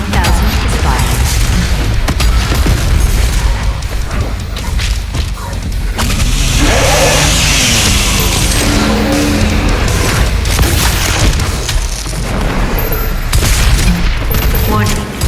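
Doom Eternal combat with the BFG 10,000 firing: a dense, loud, continuous wall of booming blasts and gunfire, with deep rumbles and scattered explosions throughout, and a voice is partly audible in the mix.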